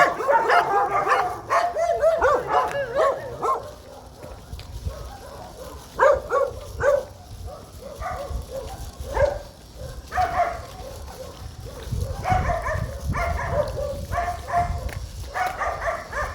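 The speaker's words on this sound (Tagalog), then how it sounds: "Ang daming aso, tingnan mo aso." Several dogs bark and yip repeatedly outdoors, some near and some farther off, in uneven overlapping bursts.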